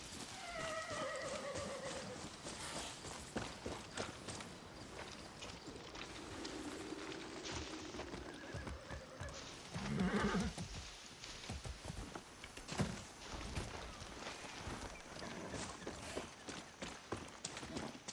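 A horse in the Far Cry 6 video game neighs and its hooves clatter, with whinnies early on and scattered hoofbeats amid game effects, fairly quiet overall.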